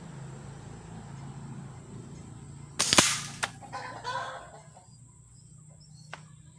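A single sharp airgun rifle shot cracks out, followed by a brief rattle. Otherwise a quiet outdoor hum.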